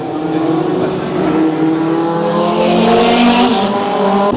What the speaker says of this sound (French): le son, c'est une voiture de la Ferrari